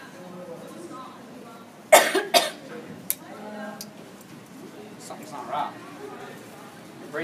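A woman coughs in a theater setting, a sharp cluster of loud hacking coughs with a throat-clearing burst shortly after, then quieter sounds and faint talk in the background.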